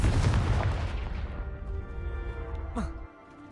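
A Confringo blasting spell explodes in Hogwarts Legacy: a loud, close boom that rumbles and slowly fades over about three seconds, then cuts off sharply.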